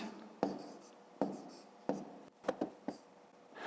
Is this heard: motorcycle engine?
no